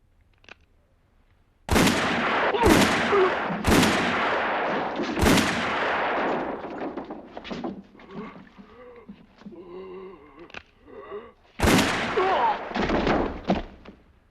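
Gunfire in the western film The Good, the Bad and the Ugly: several loud, sharp shots with echoing tails ring out one after another, with a quieter stretch of other film sounds before a final blast.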